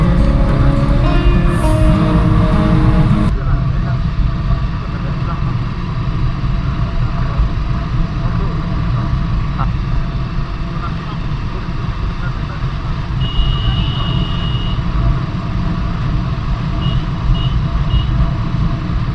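Continuous rumble of heavy traffic on a busy road crowded with auto-rickshaws and other vehicles, with engines droning close by, a few brief electronic beeps later on, and voices mixed into the din.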